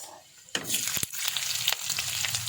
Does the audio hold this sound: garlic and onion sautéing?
yes